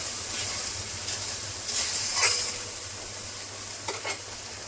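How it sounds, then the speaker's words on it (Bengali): Spice paste with salt frying in a pan for a Bengali fish curry with small bacha fish and tender greens: a low, steady sizzle with a few brief stirring scrapes, no talking. "লবণ দিয়ে দিচ্ছি। মশলাটা কিছুক্ষণ ভেজে নেব।"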